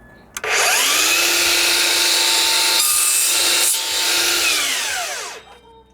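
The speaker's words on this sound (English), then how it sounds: "I'm gonna set my miter cut to 45. Bam! Place my trim up there. And cut it." A miter saw set to 45 degrees cuts through wooden baseboard trim, its loud whine starting abruptly, holding steady through the cut for about five seconds, then winding down.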